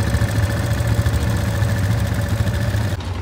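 ATV engine idling in Ocho Rios, Jamaica, a steady low mechanical rumble with a faint knock, loud and near, dropping slightly at the very end.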